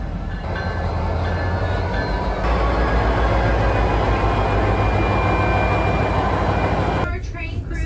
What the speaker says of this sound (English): We're going on the White Pass Railroad on the Yukon route